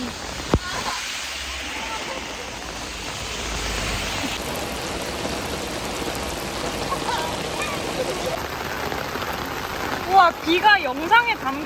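Heavy rain pours on a wet day in Danyang, a dense, continuous hiss of water falling and splashing on surfaces, with people talking over it near the end.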